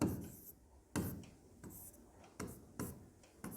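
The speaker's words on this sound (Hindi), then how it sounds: "तो सबसे पहले हम एक फार्मूला लिखते हैं" Pen or chalk writing out a speed-distance-time maths formula, a series of short scratchy strokes in bursts roughly every second, close and fairly quiet with no talking.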